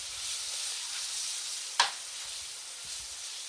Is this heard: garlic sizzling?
yes